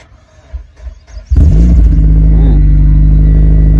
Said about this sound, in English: I'm gonna start it up so you guys can get uh, hear how it sounds with this uh, exhaust setup